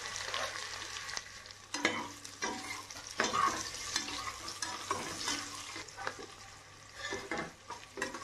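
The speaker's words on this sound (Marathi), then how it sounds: "कांदे आपल्याला लाल रंगाचे होईपर्यंत परतून घ्यायचे आहेत" Sliced onions fry in a hot pan for biryani, crackling loudly while a spoon stirs and scrapes through them in uneven bursts.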